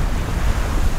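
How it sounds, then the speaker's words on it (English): Wind gusting across a sailboat at 16 to 18 knots off Greece, a dense, steady rushing roar with buffeting microphone rumble and the wash of water, loud and unbroken, with no voices. "Just a little bit of gust."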